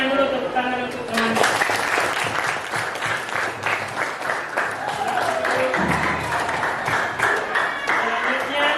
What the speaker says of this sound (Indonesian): berikan dulu tepuk tangan untuk teman